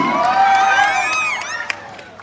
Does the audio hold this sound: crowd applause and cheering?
yes